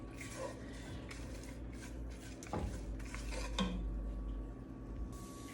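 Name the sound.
stirring and lightly sautéing veggies in pan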